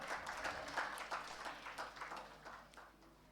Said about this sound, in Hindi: ज़ोरदार तालियों से अभिवादन कीजिए माननीय श्री देवधर